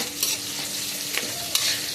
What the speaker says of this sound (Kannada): ಪಟ್ ಪಟ ಅಂತ ಸಾಸಿವೆ ಸೈಡಿಗೆ ಹಾಕಿದೆ